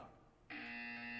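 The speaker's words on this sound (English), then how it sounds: "You will hear a buzzer." An electronic buzzer cuts in sharply and holds a steady, loud, harsh tone for about a second, alone with no talk.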